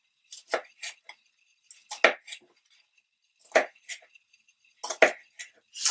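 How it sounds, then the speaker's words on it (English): A knife chops a tomato into small pieces sharply on a cutting board in small clustered bursts, a few quick strikes at a time with pauses between, fairly close. "So I'm just going to chop the tomato in small pieces."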